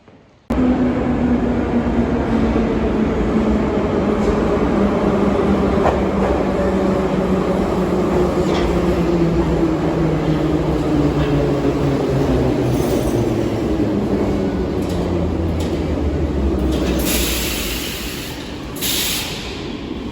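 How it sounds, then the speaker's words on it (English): A Kharkiv metro train runs steadily and loudly, with a continuous rumble and a slowly shifting whine as it travels through the tunnel, ending with brighter hissing bursts near the end. "Onto the Kharkiv metro."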